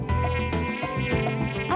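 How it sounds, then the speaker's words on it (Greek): A high, whining mosquito buzz from a 1990s Greek TV advert, wavering in pitch and sounding close and insistent, with music-like tones mixed in for under two seconds. "Κουνούπι."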